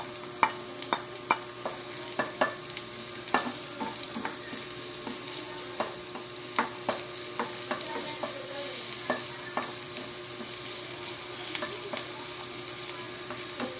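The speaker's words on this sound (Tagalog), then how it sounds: "Ito po, magigisa na po tayo. Ito po natin ang bawang." Chopped garlic sautéing in a pan for creamed mongo beans, a steady close sizzle with frequent light ticks and clinks of a spatula stirring throughout, no voices.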